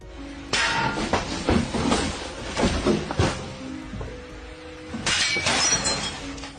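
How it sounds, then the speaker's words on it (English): A glass mirror shatters loudly in a burst of sharp cracks and tinkling fragments, followed by scattered falling pieces and then a second crash of breaking glass near the end. "The glass trembled, then shattered with a sharp snap"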